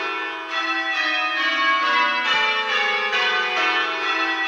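Church bells ring in a change-ringing method with the treble leading, a continuous loud sequence of overlapping bell strikes sounding one after another in an even rhythm.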